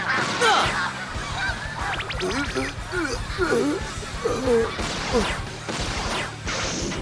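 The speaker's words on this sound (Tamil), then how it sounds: "இந்த பறவைங்களுக்காக நான் வண்டியை நிறுத்த கூடாது." Cartoon birds, likely geese, honk repeatedly in an animated running series, loud bursts scattered through the clip over a continuous music bed, with brief crash-like hits.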